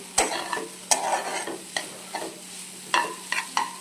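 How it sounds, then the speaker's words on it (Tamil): Mixed vegetables sizzle in a hot pan while a spoon stirs them, giving repeated scraping strokes over a continuous close sizzle. No one speaks. "நல்லா ஃப்ரை ஆகிடுச்சு எல்லா வெஜிடபிள்ஸும்."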